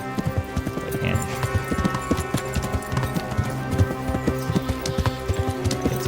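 Horse hooves clip-clopping steadily in the medieval video game Kingdom Come: Deliverance, a continuous trotting rhythm of close, even impacts over a faint game ambience.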